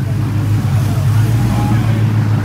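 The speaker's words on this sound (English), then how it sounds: "Oh, and listen to that engine rumble." A 2020 Ford Mustang Cobra Jet with a naturally aspirated Coyote V8 of about 550 horsepower rumbles on a dyno, a loud, steady low growl that fills the space without a break.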